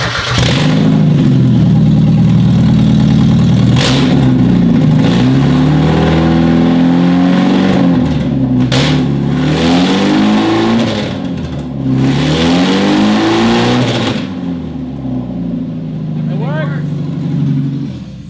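Stanced Mazda Miata with a newly installed transmission revving hard on a dyno, the engine climbing and falling through repeated loud pulls over many seconds, with voices talking beneath the engine noise.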